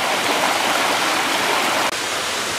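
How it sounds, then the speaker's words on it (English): A waterfall on Hinchinbrook Island roars as a dense, steady rush of falling water, loud and close, with no voices. "that's basically the waterfall."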